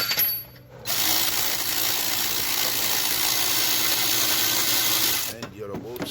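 Ratchet or power driver loosening alternator bolts on a 2011 Buick LaCrosse, a steady whirring buzz for several seconds between brief quieter gaps, up close, with a voice briefly at the end.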